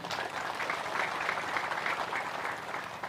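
A large congregation at a mass Islamic prayer gathering claps together, a loud, dense and sustained burst of applause filling the space for about three seconds, with no speech on top.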